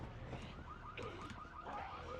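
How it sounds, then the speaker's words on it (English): A car alarm sounds in a zombie survival video game, a repeating warbling electronic tone that holds steady and fairly loud for the full stretch, with clutter and movement noise from the game underneath. "They're setting alarms off somewhere."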